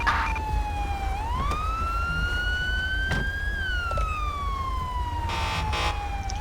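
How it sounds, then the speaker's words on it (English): In GTA V's LSPDFR mod, a police siren rises and falls in long sweeping wails over a low rumble, close and loud for several seconds with no voices. "you need to shut your siren off back there"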